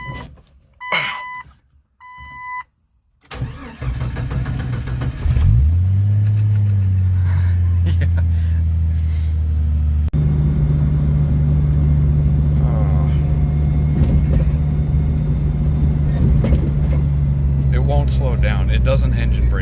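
A 315,000-mile five-speed Jeep Cherokee XJ cranks briefly and starts, then settles into a loud, steady rumbling idle with throaty engine drone and occasional revs. A voice can be heard talking over it.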